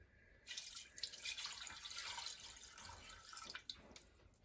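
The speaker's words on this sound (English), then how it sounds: "I'm pouring in the water." Water pouring into honey for Greek honey walnut cookies, a quiet continuous trickling and splashing stream for a few seconds, close and without talk.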